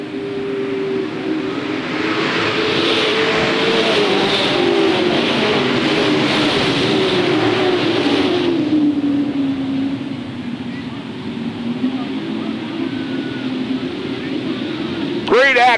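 Sportsman Pro Star stock cars roar around Hales Corners Speedway in a continuous, droning blur of engines, with a commentator talking over the noise during a 1993 feature race.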